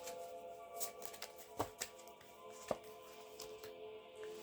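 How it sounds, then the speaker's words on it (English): A deck of oracle cards is shuffled by hand at a tarot-style reading, giving soft, quiet riffling and rustling with a few sharper snaps and taps, close up and with no talk. "Can you just shuffle one more time?"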